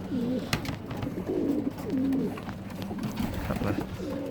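Pigeons cooing in a loft with open trays, low throaty coos repeating several times nearby, with faint background noise and occasional knocks.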